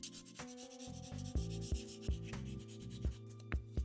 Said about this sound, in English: We're just going to lightly wet sand, especially to remove the edges. Starting with 120 grit.